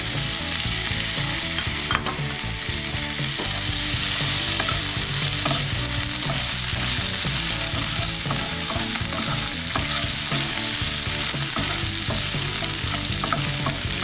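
Canned shiitake mushrooms frying in a pan for potato adobo, a dense continuous sizzle with scraping stirring strokes and occasional clinks, close and steady with no voices.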